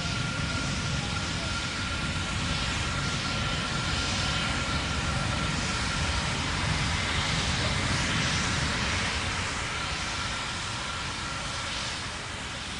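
A Relativity Space Terran 1 3D-printed rocket roars in flight near max Q, giving a steady, dense, broadband rumble that holds level with little change for about thirteen seconds.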